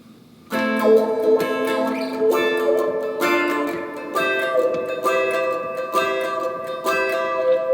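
An electric guitar plays a choppy riff of repeated chords and whammy-bar bends, close and moderately loud, with no voices.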